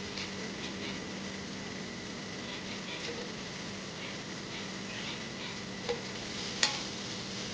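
Onion sautés with salt in a pan, a quiet continuous sizzle with faint stirring scrapes and a couple of brief clinks near the end.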